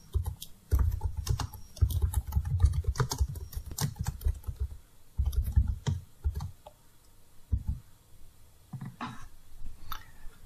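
Rapid bursts of keystrokes on a computer keyboard while a document is written in Microsoft Word, close and clear, with short pauses between runs of typing.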